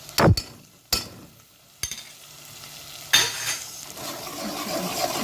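Minced garlic frying and being stirred in a pan for rice, with a few sharp spoon knocks against the pan and a soft, steady sizzle building beneath them.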